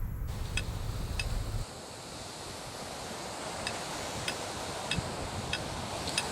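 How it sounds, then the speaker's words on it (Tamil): Strong wind and rough sea at Chennai Marina beach during a low-pressure system over the Bay of Bengal: broad rushing noise of wind and surf, steady and fairly loud, with a heavier low buffet at the start and no speech. "நேற்றிலிருந்து பலத்த காற்று வீசி வருகிறது. அதனால் கடலோர மாவட்டங்களில் இருக்கக்கூடிய கடற்கரையில் கடலுடைய சீற்றம் அதிகமாக இருக்கிறது."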